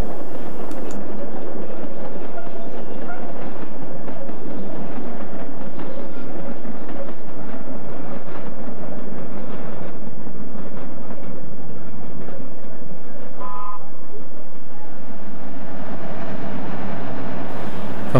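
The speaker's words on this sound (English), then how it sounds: "A pair of Class 483s pass the hovercraft terminal in Network South East livery." A pair of Class 483 electric trains in Network South East livery rolling past the hovercraft terminal at Ryde, a loud steady rumble of wheels on rail sustained for the whole stretch.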